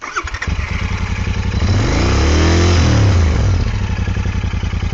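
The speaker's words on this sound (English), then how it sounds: "beautiful sounding exhausts on this" Royal Enfield Interceptor 650 twin exhaust blipping up into a loud rising-and-falling rev from idle, close by, with no talking.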